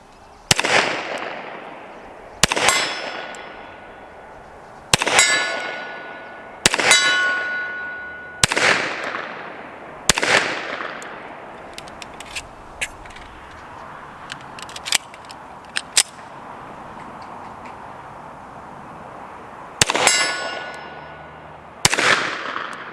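Shots from a Kimber Longslide Target 10mm pistol ring off a steel silhouette target at 60 yards: sharp bangs each followed by a long metallic ringing decay, fired in a slow irregular series with a quieter gap of faint clicks midway.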